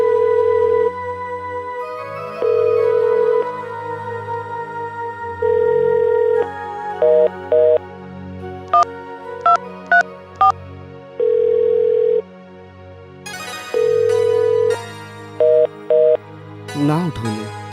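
A telephone call rings out with no answer, its repeated electronic ring tones and beeps recurring at intervals over a background of music and sound.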